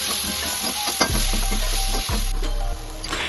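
Green chilies and coriander sizzle and fry in a hot pan for Kerala-style chicken curry, a steady close crackle broken by a couple of stirring clatters.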